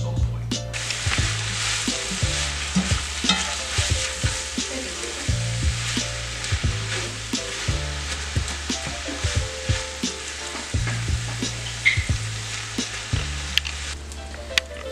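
Sliced onions frying in avocado oil in a Dutch oven, a steady bright sizzle with frequent small pops and crackles, close and continuous with no voices.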